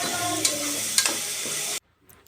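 Ginger garlic paste and soaked spices sizzle in hot Dalda ghee as a spoon stirs them, a loud continuous frying hiss with a few scraping strokes that stops abruptly near the end.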